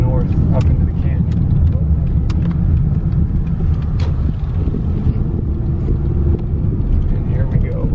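A car drives off Highway 260 on the Mogollon Rim in Arizona, heading north into a canyon, with a steady low engine and road rumble plus wind buffeting the microphone throughout and people talking over it.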